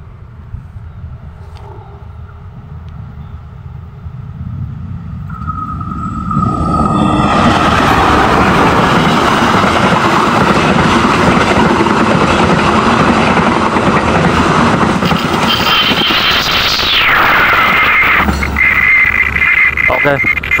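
A Progo passenger train with stainless-steel executive coaches rumbles past on an Indonesian rail line, swelling from a distant approach into a loud, sustained roar of wheels and cars close by.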